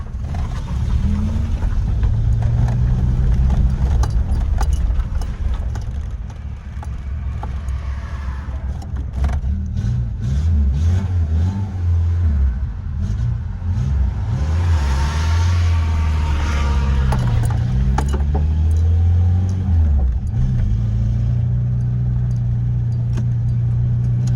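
A car engine with a repaired accelerator cable idles and revs close by, rising and falling in pitch several times, with faint rattling and clinking over the rumble.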